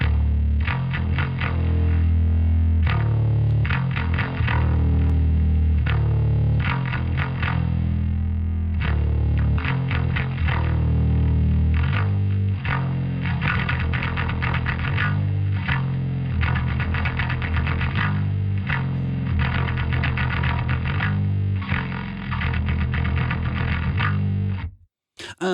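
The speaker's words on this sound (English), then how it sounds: "this is just the raw bass sound that you're hearing" Raw, unprocessed bass from the Ugritone Armageddon pack played with heavy drums, both dry. The riffing is loud, distorted and steady across the whole passage, with chugging rhythmic attacks that stop abruptly near the end.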